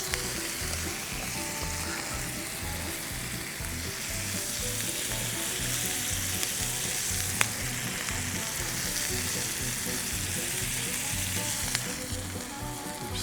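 Food with butter, salt and pepper fries and sizzles on an Argentinian grill for a cheeseburger and hot dog cookout, a steady close crackling hiss with occasional stirring, no talk.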